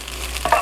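Glass noodles (dangmyeon) stir-fried in a pan with sesame oil and pepper give a brief, close scraping stir over a soft sizzle, with no talk.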